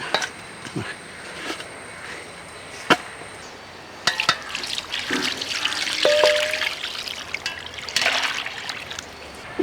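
Water is poured over dried shark fish in a kitchen to soak it, a trickling, splashing flow with scattered knocks and clinks of the fish and container, close and moderately quiet.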